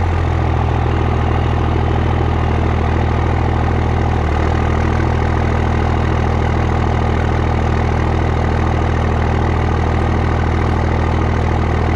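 A 2001 Ram 3500 dually pickup with a 5.9 Cummins diesel idles steadily up close, a loud, even low rumble with a constant clattering drone and a slight hitch partway through, no talking.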